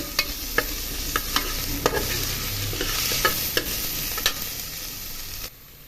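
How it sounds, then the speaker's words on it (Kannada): Gorikai (cluster beans) frying in oil for pulao, a steady sizzle with regular scraping clicks from stirring that stop abruptly near the end. "ಈ ಥರ ಚೆನ್ನಾಗಿ ಫ್ರೈ ಆಗಬೇಕು"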